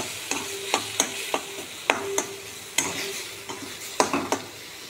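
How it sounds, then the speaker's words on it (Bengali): Potatoes (aloo) frying in a pot for a Bengali dish are stirred with a utensil, giving a string of scraping knocks and clinks over a soft sizzle, close and fairly quiet. "আবার নাড়াচাড়া করে নেব।"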